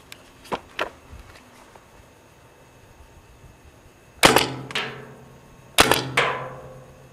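A paintball marker fitted with a Tacamo mag feed conversion kit fires several sharp pops, two quick ones early and then two pairs later, each followed by a short rattling echo at close-to-mid distance.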